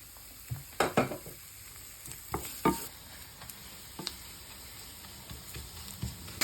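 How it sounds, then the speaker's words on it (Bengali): Garlic frying in mustard oil for a dried tomato chutney, a soft sizzle with scattered ticks and clinks of stirring against the pan, close but fairly quiet, with no voices. "শুকনো টমেটো চাটনির লাগি সবটি রসুন সরিষার তেল দিয়া ভেজে দিলাম"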